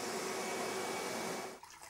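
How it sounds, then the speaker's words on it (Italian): A vacuum cleaner runs loudly and steadily while cleaning a floor in preparation for laying floating parquet, then cuts off abruptly near the end. "altrimenti passiamo l'aspirapolvere o laviamo"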